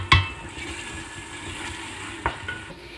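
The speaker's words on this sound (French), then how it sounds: "il faut vraiment laisser cuire la tomate dans l'huile pour que la tomate perde son acidité" Tomato frying in oil in a pan for Tunisian fish couscous, a soft steady sizzle with a couple of sharp utensil clinks against the pan.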